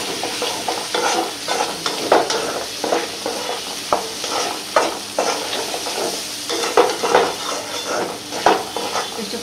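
Spice paste frying in oil in a pan after fish has been fried, sizzling steadily while a utensil stirs and scrapes in repeated sharp bursts close by, with no one speaking.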